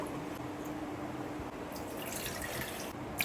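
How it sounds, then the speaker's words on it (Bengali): Two cups of water pour into a pot on a gas stove for boiling, making a soft, close trickling and splashing that runs steadily for a few seconds without talk. "দু কাপ জল পুরো দিয়ে দিলাম"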